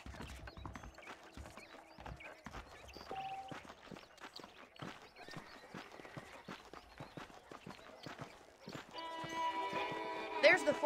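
Horse hooves in Red Dead Redemption clip-clop in a steady rhythmic trot to canter, close and clear throughout while someone talks over them, with louder scuffling near the end.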